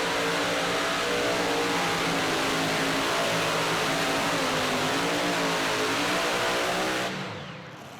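A super modified pulling tractor named Keeps on Ticking screams at a sustained high-revving roar at a charity tractor pull in Hillsboro, loud and steady, then cuts off abruptly and drops away near the end.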